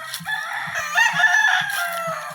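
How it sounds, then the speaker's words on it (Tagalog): Chickens call close by, a drawn-out crowing cry over scattered low clucks, with no talking. "Yan mga manok."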